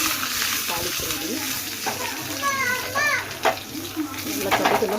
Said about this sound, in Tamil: வரமிளகாவும் கருவேப்பிலையும் போட்டாச்சு. தாளிக்கிறது